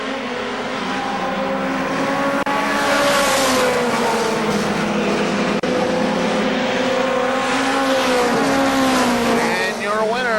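Race cars on the final lap at KilKare Speedway roar past, engines droning and shifting pitch steadily as they circle the track, loud and continuous, with a voice calling the race over them.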